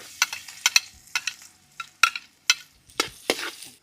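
Ginger and garlic frying and being stirred in a pan, with a series of sharp scraping and clinking strokes over a quiet background sizzle.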